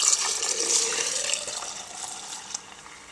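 Water pours steadily into a container for making yogurt from dehydrated milk, a close, splashy stream that is loudest at first and slowly tapers off over about three seconds.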